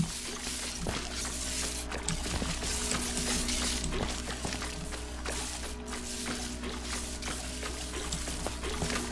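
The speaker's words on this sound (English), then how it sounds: "Why is that dripping sound still here?" Water drips inside a Portal 2 test chamber, a steady trickle and patter of small drops over a dense, constant ambient hum, with no voices.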